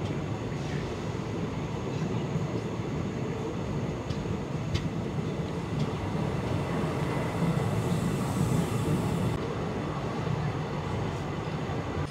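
Train running on rail tracks, a steady broad rumble throughout with faint intermittent clicks, continuous and moderately loud with no talk.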